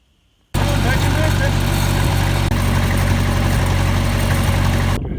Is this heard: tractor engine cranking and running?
yes